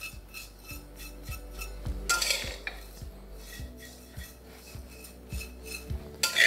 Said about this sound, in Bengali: আপনারা কিন্তু এটার সাথে সাথে এই সিমুইটাকেও মেশাতে থাকবেন, নাহলে কিন্তু এটা নিচে লেগে যাওয়ার একটা সম্ভাবনা থেকে যাবে।